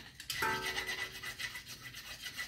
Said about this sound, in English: you're just going to lightly get away with any of the rust that you already know your brake pad was sitting on